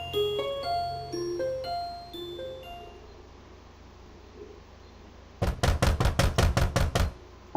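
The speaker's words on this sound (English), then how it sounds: "I'm jolted awake by a thunderous banging sound coming from my door." Loud, heavy knocking pounds on a dorm room door: a rapid run of about nine forceful bangs that follows a soft, chiming melody and a stretch of quiet.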